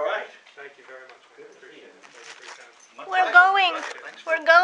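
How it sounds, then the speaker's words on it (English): A dog gives high whimpers and yips, rising into a louder run of whiny barking yelps near the end, close by while a person speaks at the same time. "You're an attack doggy and everybody fears you."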